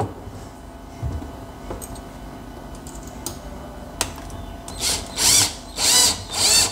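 A power drill driving screws into door hinges: several short, loud whirring bursts in the second half, preceded by faint clicks and handling noises.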